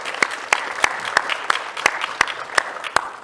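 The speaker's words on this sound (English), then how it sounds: "Well-deserved applause." Applause at a county board of commissioners meeting, a light, thin clapping with a regular beat of prominent individual claps over a quieter background of hands in a room.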